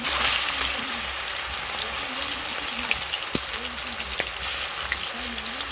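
Tengra fish fry in hot mustard oil with a steady, dense sizzle and scattered sharp pops and crackles, close up and continuous, with a faint low hum beneath.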